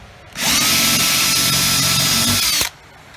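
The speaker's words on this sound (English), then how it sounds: "I'm going to pre-drill 3/16 hole for the lag bolt" A power drill whines at full speed for about two seconds, drilling a 3/16-inch pilot hole for a lag bolt, loud and close, then stops abruptly, with quiet room noise before and after.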